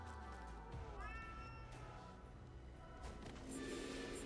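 A cat meows in a video game, a few short mewing calls rising in pitch, fairly faint under game music and effects.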